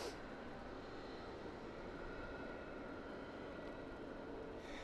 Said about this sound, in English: Henry, I thought it was the Malaga flight in.